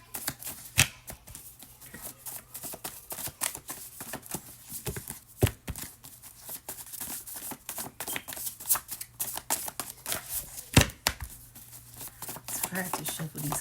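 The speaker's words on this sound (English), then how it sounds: "I have to shuffle these cards sometimes." Cards are repeatedly shuffled and handled in uneven bursts of soft slapping and riffling, with occasional sharper snaps throughout.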